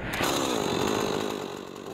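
A chainsaw carves an old tree stump into a sculpture, its engine roaring loud and close in one sustained, steady whine.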